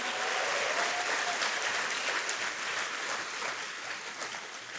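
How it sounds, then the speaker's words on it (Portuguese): A church congregation claps for the hosts who open their homes to the church, steady, even applause from a sizeable group that tapers slightly toward the end, with no voices over it. "Eu queria que você aplaudisse os nossos anfitriões."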